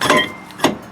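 Hammer blows striking a brake rotor to knock it loose from a vehicle hub, two sharp metallic clanks close up with a short ring after each, no talking.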